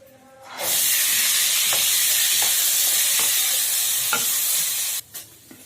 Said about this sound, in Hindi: अभी मटर भूज रहल छी।